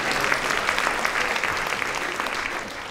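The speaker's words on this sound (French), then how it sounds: "si vous applaudissez" A theatre audience claps steadily throughout, dense applause at moderate distance with no voices standing out.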